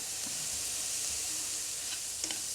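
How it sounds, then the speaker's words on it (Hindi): Onion sizzling in a pan with browned garlic for red sauce pasta, a continuous bright crackling hiss with a few small stirring taps, steady and close. "तो इसमें प्याज डाल के नरम कर लेते हैं।"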